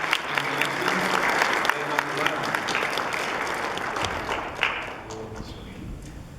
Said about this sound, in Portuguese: Vamos dar uma salva de palmas então à família que recebe